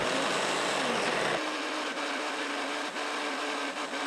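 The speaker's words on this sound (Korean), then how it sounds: "믹서에 배에 넣고 먼저 갈아주세요." A blender grinding pear whirs steadily at close range, a loud, continuous grinding roar that settles into an even motor drone after a brief shift.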